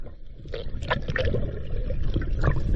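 A freediver plunging into clear nearshore ocean water while spearfishing for rockfish, a muffled splashy churn of bubbles and water movement with scattered small gurgles, steady and close, no speech.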